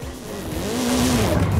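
A new Chinese car in the racing game Forza Horizon 5 revs its weak, underpowered engine. The engine note climbs steadily and loudly with no break, with no voices over it.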